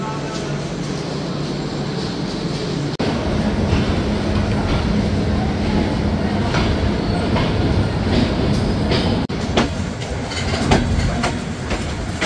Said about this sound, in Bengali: ব্রডগেজ ট্রেন মানেই আগুন, তার সাথে যদি হয় আমেরিকান লোকোমোটিভ এবং সিআরআরসি চাইনিজ র্যাক